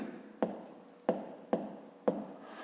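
Handwritten numbers scratched onto paper during a fifth-grade math exercise: four quiet, separate strokes spaced under a second apart, close by and faint, with a little background hiss and no voices.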